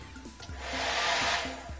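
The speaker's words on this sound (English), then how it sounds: "So then your hairdryer." A hairdryer on a hot setting, used to lift a dent out of a stretched canvas, blows with a steady whooshing roar and a low motor hum, close and loud, swelling slightly partway through.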